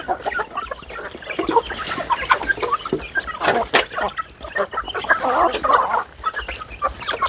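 Chickens cluck busily at close range while being fed rice in the evening, a steady chatter of short overlapping calls with no talk.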